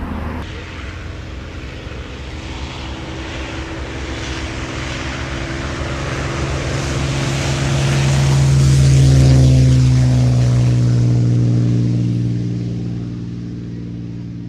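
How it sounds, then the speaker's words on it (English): Warbird aircraft at an airshow rumble with deep piston-engine drone that swells as a plane passes close overhead and fades away, loud and continuous under crowd ambience. "I'm going dizzy with the sound of warbirds in my ears"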